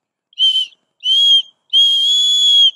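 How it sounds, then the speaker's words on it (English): Three clear, high, piercing blasts on a whistle, close up and alone: two short toots and then a longer held one. "you blow that whistle 3 times"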